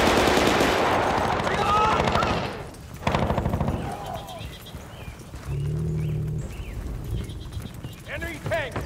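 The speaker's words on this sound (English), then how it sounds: "Marlowe, they got that machine gun" Machine gun fire in the video game Battlefield: Bad Company, heard as loud, rapid automatic bursts during a combat scene with a tank nearby, mixed with other battle noise and voices talking.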